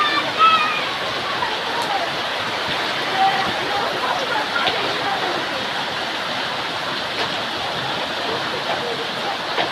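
Heavy morning rain pours down in a village, a dense, steady hiss of water without a break, loud and continuous throughout, with voices talking underneath.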